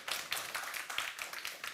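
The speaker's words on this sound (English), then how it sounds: "And this applause for you." Audience applause at a startup demo day event, a quiet patter of many hands clapping steadily for under two seconds.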